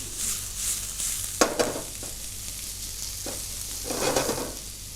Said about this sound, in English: Then we add our onions. We fry that off as well.